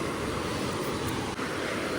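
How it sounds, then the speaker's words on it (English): A river flows close by outdoors, a steady, fairly soft rushing wash of water that stays constant throughout with no talking. "We're so close to the river."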